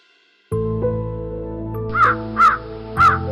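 Three loud crow caws ring out in a slow, evenly spaced sequence over a steady droning background hum.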